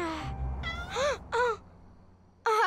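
A cartoon cat meows three times at night in a garden, each call clear and close, separated by short pauses over a faint low background hum.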